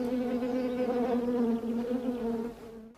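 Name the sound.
honeybees buzzing around a saucer of sugar water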